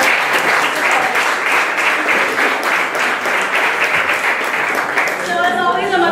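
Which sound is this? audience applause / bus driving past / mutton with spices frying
audience applause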